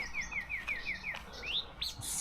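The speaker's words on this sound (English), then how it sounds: "Those are weaver birds." Weaver birds singing outdoors: a rhythmic series of repeated rising chirps followed by a few sharper whistled calls, clear and fairly close over a low background hum.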